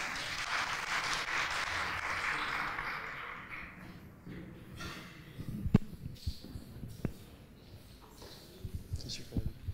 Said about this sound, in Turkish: Gratis Piranalar Kalite Çemberi ekibini alkışlarla